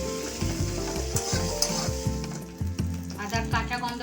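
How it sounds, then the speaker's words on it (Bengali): Ginger paste fries in a pan for a tangy pomfret fish curry, with a continuous close sizzle broken by repeated rhythmic stirring scrapes and knocks. "এরপর আমি আদা বাটা দিয়ে একটুখানি আদাটা ভেজে নেব।"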